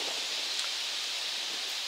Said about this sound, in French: Voilà le vent.